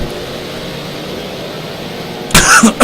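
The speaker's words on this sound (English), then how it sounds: "excuse me for coughing" A single sharp cough bursts out near the end, loud and close, after a steady low hum of background noise, during Project CARS GT3 race commentary at Road America.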